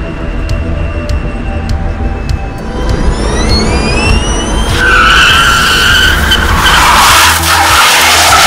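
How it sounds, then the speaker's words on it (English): A Superformance MKIII E roars through burnouts and donuts, its engine rising in pitch before tires break into a loud, sustained squeal that smears into rough skidding, close and dominant with no talk. "it's done a couple of burnouts, a couple of donuts"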